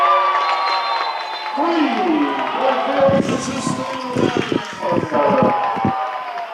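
A loud crowd roars and cheers at a men's high school basketball region final, Johnson FL against Bob Jones, with a commentator talking over the steady din.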